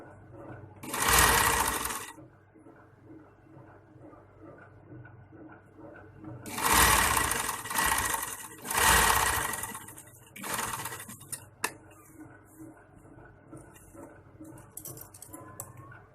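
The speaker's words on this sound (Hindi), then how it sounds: "बिल्कुल किनारे से थोड़ा सा हट के सिलाई लगा लें।" A sewing machine stitching a baby collar runs in three close, loud bursts of rapid whirring, with quiet pauses between them and faint handling clicks afterward.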